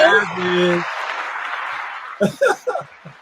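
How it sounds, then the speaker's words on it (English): A canned hand-clap applause effect plays during a live stream: a brief musical tone, then a steady wash of clapping that fades under a few short bursts of voice. "Where's the hand clap sound effect?"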